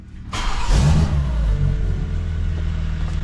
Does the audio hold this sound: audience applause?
no